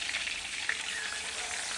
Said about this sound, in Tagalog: Ubusin ko lang ko sa pagprito guys.